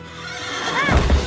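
A horse neighs in a rising, wavering whinny with a couple of dull hoof thuds at the end, fairly close and loud over an outdoor background hiss.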